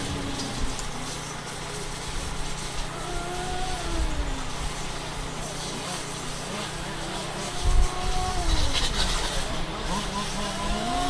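RC race cars running a main event at a cancer benefit race, a steady high-pitched buzz of small motors rising and falling as cars pass, with a louder surge near the end and an announcer calling the race over it.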